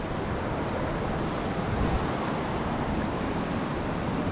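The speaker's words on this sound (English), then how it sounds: "at the other side here it's like a ferocious massive waterfall" A ferocious waterfall on a river in a wild Scottish glen roars as the whole river funnels through a narrow gap, a steady, broad rushing wash that stays loud and constant with no voices.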